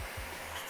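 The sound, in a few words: vacuum cleaner running over car carpet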